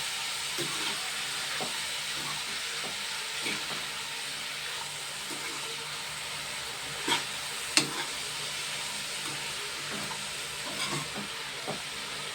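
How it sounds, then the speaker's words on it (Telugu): Tempering spices sizzle in a hot pan while being stirred, giving a steady frying hiss broken by soft scraping strokes at a fairly regular pace and a couple of louder clinks, with no voices. "ఎందుకు కలుపుకోవాలండి అంటే ఇందులో పోపులు ఉన్నాయి కదండి"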